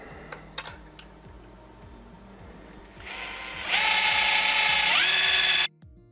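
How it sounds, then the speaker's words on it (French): An aluminium motorcycle seat part gets holes drilled with a power drill: a low rhythmic ratcheting whir gives way to a loud, high, sustained drilling whine that cuts off sharply near the end. "Et maintenant, on peut forer."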